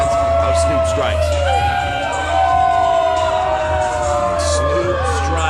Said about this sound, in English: The crowd has come to life here for this one.